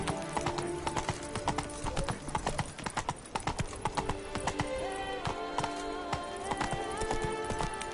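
Roach, Geralt's horse in The Witcher 3: Blood and Wine, gallops in a steady, fast clip-clop of hooves that runs throughout, loud and close over a layer of game music, with a brief whinny.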